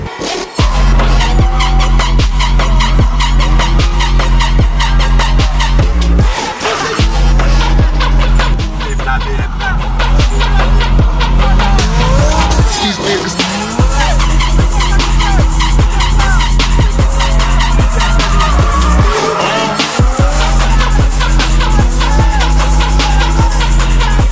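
A drifting car's tires skid and squeal almost continuously over a loud, revving engine, with a few brief drops in the noise as the slides break.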